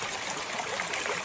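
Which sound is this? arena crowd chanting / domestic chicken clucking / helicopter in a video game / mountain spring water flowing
mountain spring water flowing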